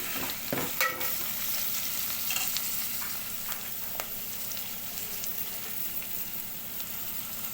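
Onions, green chillies and ginger-garlic paste frying in a pan for a brinjal-tomato curry, a continuous soft sizzle with occasional stirring scrapes near the start, steady and fairly quiet.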